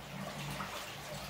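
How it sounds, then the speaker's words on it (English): Spring water running steadily through an old spring house on a hillside in the Smoky Mountains, a quiet, continuous trickling wash heard alone from close by. "And this was the spring house up the side of the hill. So that water would just come right through there."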